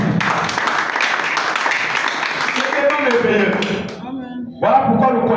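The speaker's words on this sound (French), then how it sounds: "Acclamons d'abord vraiment." A church congregation applauds, a dense crowd clapping mixed with cheering and voices, fading briefly near the end before surging again.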